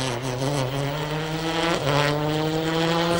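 A 2005 Ford Focus WRC rally car at the 2011 TAC Rally roars past with a strong, buzzing engine note, rising and falling as it passes mid-clip.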